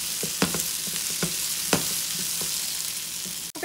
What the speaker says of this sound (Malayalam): നമ്മുടെ സവാള ഏതാണ്ടൊന്ന് വാടി വന്നിട്ടുണ്ട്.